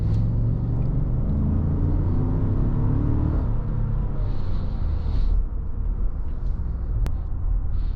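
A deep, steady roar from the 6.2-liter 420-horsepower V8 of a 2020 Cadillac Escalade ESV building under acceleration, loud and continuous from inside the vehicle, with a brief dip as the 10-speed automatic shifts.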